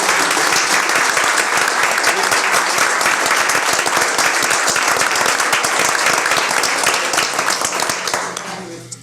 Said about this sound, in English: maybe a round of applause to all the advisors who worked with these students